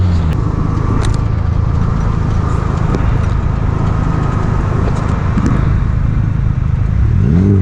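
A turbocharged kit car pulls hard in second gear, its engine a loud, steady close-up drone that holds for several seconds with faint higher turbo whine and no voices over it.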